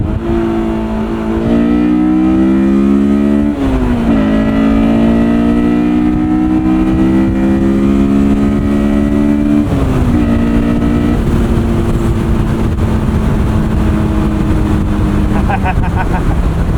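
A 2001 Honda S2000 on winter tires pulls hard through the gears, its engine rising sharply in pitch with brief dips at each upshift, loud and close from inside the cabin.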